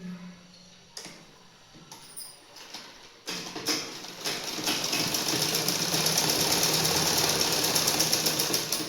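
A sewing machine stitches a quarter-inch side seam on basic underwear in a tailoring class. A few soft taps come first, then the machine settles into a fast, steady, close mechanical whir.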